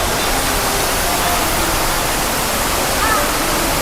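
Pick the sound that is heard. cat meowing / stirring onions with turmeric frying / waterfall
waterfall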